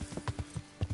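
A horse's hooves in the video game Kingdom Come: Deliverance clip-clop at an uneven walking pace, roughly eight distinct soft thuds in about a second, near and clear with no talk.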